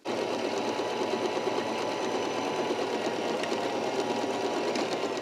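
A Baby Lock Joy sewing machine runs at a steady, even hum with a soft mechanical whir, close and continuous, with no voices.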